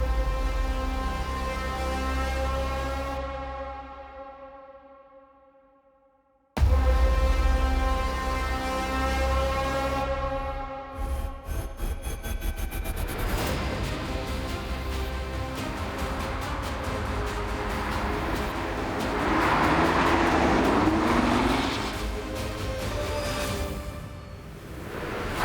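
An Audi TT engine roars at the La Ferté-Gaucher race circuit, its loud harmonic revs rising and falling, cutting off briefly before returning at full strength and sweeping on continuously.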